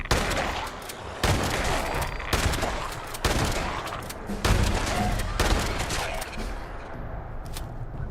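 A shotgun in Fallout 76 fires repeatedly, each loud, close blast coming about a second apart in a steady run of roughly half a dozen shots before things quiet down.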